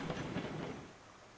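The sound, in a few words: steam train running on rails in Railroads Online video game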